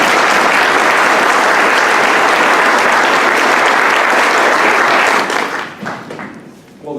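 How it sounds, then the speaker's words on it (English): Loud, dense applause from a Rotary Club audience at a state house candidates' debate in York, Pennsylvania, sustained for about five seconds before tapering into scattered claps and fading. "You clap."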